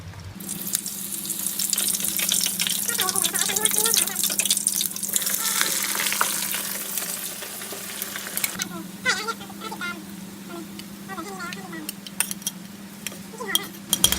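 Lemongrass fries in hot oil over a lowered gas flame to make massage oil: a steady close sizzle and bubbling crackle with occasional utensil clinks, and someone speaking over it.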